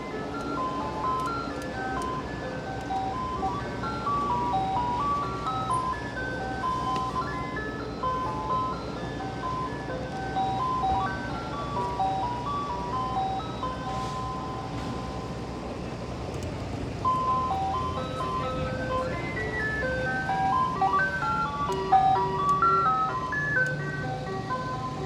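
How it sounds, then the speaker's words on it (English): An ice cream truck plays its tinkling melodic jingle continuously on a Brooklyn street on the way to Coney Island, moderately distant and steady, with road and traffic noise underneath and no talking. "Hello, ice cream truck."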